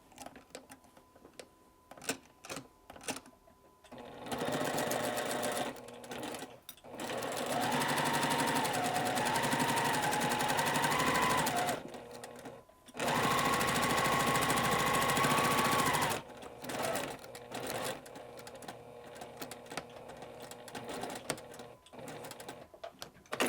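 A sewing machine stitches fabric in two sustained bursts of rapid, even whirring, separated by short pauses and quiet handling noises.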